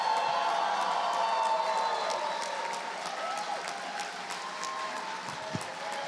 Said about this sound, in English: loudest round of applause.